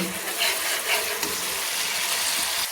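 Mustard spice paste fries in hot oil for a tilapia curry while being stirred, giving a steady, close sizzle with soft scraping strokes and no talking.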